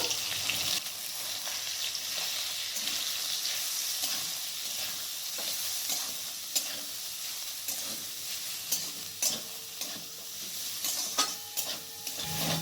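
Soybean chunks fry in mustard oil in a wok with a continuous bright sizzle, broken by frequent scraping stirs and light clacks of a spatula against the metal.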